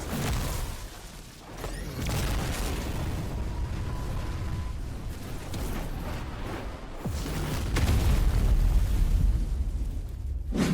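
A nuke attack explosion plays during a cutscene in the Heroes Battlegrounds video game, a loud sustained rumbling blast with whooshing bursts that swells even heavier toward the end.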